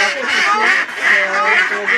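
Close honking and cackling from a greylag goose in a bird park, steady repeated calls lasting throughout, overlapped by someone speaking.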